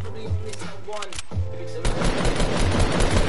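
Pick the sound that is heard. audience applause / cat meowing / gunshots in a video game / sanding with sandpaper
gunshots in a video game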